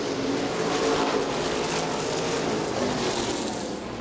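Super late model race cars roar around a dirt oval, a dense continuous engine drone at a steady distance with no clear pass-bys.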